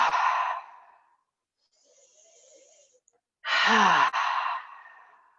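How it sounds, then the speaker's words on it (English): Two strong breaths pushed out through the mouth during a yoga breathing exercise, each a loud rushing exhale with a quiet gap between them, close and with no talking. "Inhale through the nose, exhale through the mouth."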